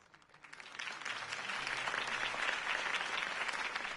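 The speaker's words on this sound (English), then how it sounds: "If only Mr. Wayne, my campaign's largest backer, could have heard that applause" A crowd applauds after a campaign speech in a Batman video game, the clapping swelling from quiet to a dense, sustained roar of many hands.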